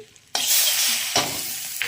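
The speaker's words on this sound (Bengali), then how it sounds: "এবার কড়াইতে একটু বাটার দিয়েছি" Butter sizzles in a hot wok while chicken soup is being made, a sudden loud hiss starting after a short quiet pause and holding steady, with a brief surge midway and no talking.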